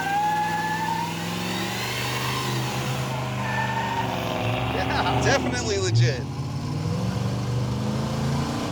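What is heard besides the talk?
Raunchero car engine running and revving while driving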